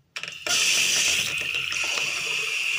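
Water from a tap begins after a brief click and then pours steadily and close, a continuous hiss with small splashing fluctuations.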